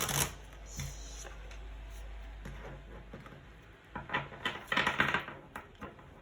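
Tarot cards are shuffled close up in soft, quiet bursts of riffling and tapping, with a few sharper card flicks toward the end.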